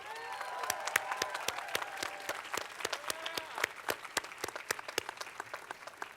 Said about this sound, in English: Graduates, let's give your parents and family members a round of applause.